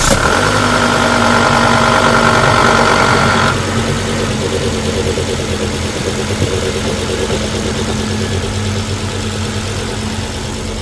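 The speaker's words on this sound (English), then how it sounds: "here comes my favorite part of working on any car, starting it" A 2006 Volvo XC90 engine cranks and catches after an oil change, running loud and rough at first before settling into a steady, lower idle.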